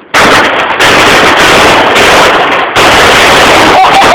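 A firecracker's loud, harsh burst of explosive crackling noise fills the clip, broken by brief gaps, close and overwhelming with no talk.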